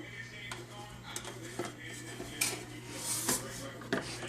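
Oven dish slid into a home oven during a kitchen cooking session, scattered clanks of metal pans and utensils with a few sharper knocks, close and fairly quiet, no talking.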